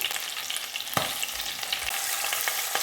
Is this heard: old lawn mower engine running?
no